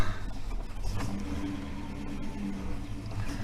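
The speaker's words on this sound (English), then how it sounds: "So the motor's running perfectly." A Holden HK car engine idles steadily after a first-time start, a close, continuous low rumble with slight fluctuations in revs and no talking.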